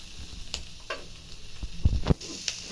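Garlic and onion frying in a spoonful of oil for vegetable sambar give a soft close sizzle, with a few light clicks and a couple of louder stirring knocks in the pan, no talk.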